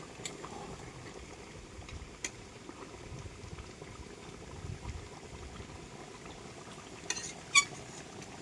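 A pot of meat and potatoes simmers quietly, a faint, continuous low bubbling with an occasional soft clink of a utensil against the pot near the end.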